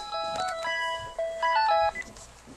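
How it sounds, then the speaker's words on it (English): A phone ringtone plays a short, faint electronic melody of several rising and falling tones in two bursts, with no talking. "I got interrupted by the phone."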